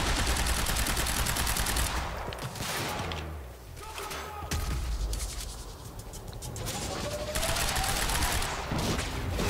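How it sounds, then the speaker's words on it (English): Shotgun blasts in the action game Quantum Break, fired rapidly in a dense firefight: loud, crackling reports layered over constant gunfire noise, with a voice briefly heard. "how freaking far does that shotgun shoot?"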